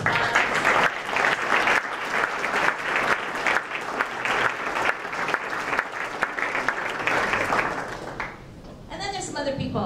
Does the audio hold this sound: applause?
yes